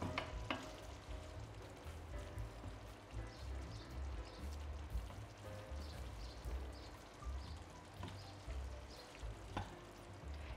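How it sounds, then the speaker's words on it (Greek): Tomato sauce with garlic and a little sugar bubbles softly in a pan while a spoon stirs it, quiet sputtering and occasional light scrapes against a low, steady simmer. "Ανακατεύω."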